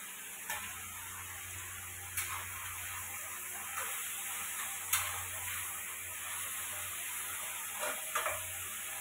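Onion and soaked moong and chana dal fry on a gas stove, a faint steady sizzle under a constant hiss from the burner and a running fan, with occasional soft stirring knocks.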